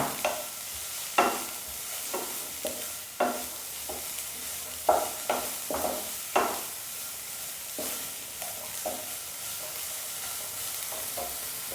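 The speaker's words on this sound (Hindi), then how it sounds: "और उसके साथ ही फिर शिमला मिर्च भी डाल देंगे। थोड़ा सा भून लेंगे।" A spatula scrapes and knocks against a pan in an irregular rhythm, over a soft, steady sizzle, as capsicum and carrot stir-fry for veg spring roll filling.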